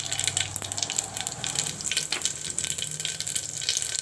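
Cumin seeds sizzle and crackle in hot mustard oil, a steady bright frying hiss with busy crackle running throughout, fairly close and even in level.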